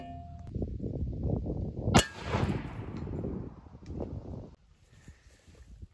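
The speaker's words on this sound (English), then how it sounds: "Let's shoot it with 45 ACP in slow-mo" A pistol firing a .45 ACP round at a surplus military helmet gives one sharp, loud metallic crack with a ringing tail, standing out from a steady rumble of outdoor background noise before and after.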